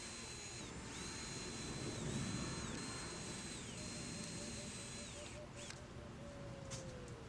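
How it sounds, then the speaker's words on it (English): An electric drill whines steadily at close range, its pitch dipping and rising as it bores, then stopping briefly between holes. "And drill my 4 holes."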